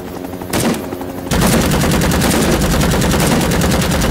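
Rapid automatic gunfire from the Rising Storm 2 video game, a loud sustained stream of shots that starts more softly and then becomes a dense, continuous barrage.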